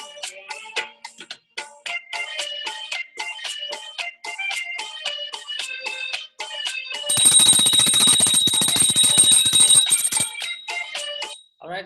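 A loud bell rings without a break for about three seconds to mark the end of a timed session in a spoken English class. Shorter, tinkling chime-like tones play before it.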